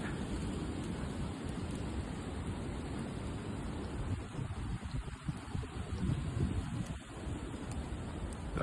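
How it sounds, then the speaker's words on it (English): Wind blowing outdoors makes a steady, fairly loud broadband rush with slight gusting swells and no voices. "Hear the wind?"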